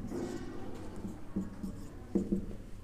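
Chalk or marker scratching across a classroom board in short strokes during a maths lesson on sets, close and moderately loud.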